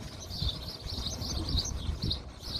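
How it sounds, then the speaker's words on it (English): Small birds chirp repeatedly in the open courtyard of Jamaica Inn, light high calls scattered over a steady breeze and distant traffic rumble, with no one speaking. "A few birds around as well."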